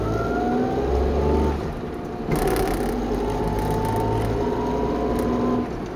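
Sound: Suzuki Fronte 550 SS40 engine idling at about 2000 rpm

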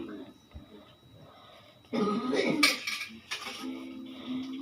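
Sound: eating biryani with plate and cutlery

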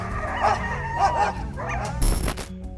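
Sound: guard dog barking aggressively at a bear

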